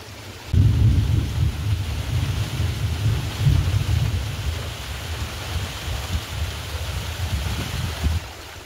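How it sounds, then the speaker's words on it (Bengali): Heavy rain falling outside during a storm with strong wind and thunder, a deep sustained rumble that swells after the opening second and roars steadily over a wash of rain, heard from indoors with no talking. "আওয়াজটা হচ্ছে টপ টপ টপ টপ করে বৃষ্টি পড়ছে।"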